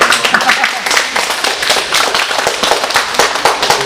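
An audience at a Korean church vacation worship service breaks into dense, sustained applause to welcome four students standing to greet them, steady clapping filling the room throughout.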